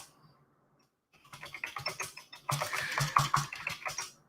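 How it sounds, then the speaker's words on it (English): Rapid typing on a computer keyboard, a quiet pause and then a dense run of close key clicks that grows louder and busier toward the end. "I'm typing that in now."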